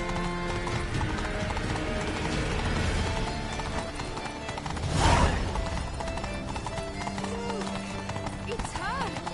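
Rhythmic clip-clop of a ridden horse galloping in The Witcher 3, steady hoofbeats running under game music and voices, with a brief louder swell midway.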